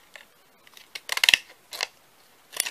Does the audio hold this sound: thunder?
no